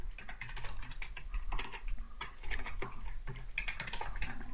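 Fast, uneven clatter of keys on a computer keyboard during JavaScript coding, close and clear, with short pauses between bursts and nobody speaking.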